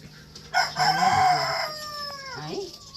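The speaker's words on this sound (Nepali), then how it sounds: "कुखुरा साह्रै करायो यो कुखुरा यो भाले" A rooster crows once loudly and near, a rising then long drawn-out call lasting about two seconds, heard during traditional Limbu kinema curry making, with faint clucking and a brief voice at the end.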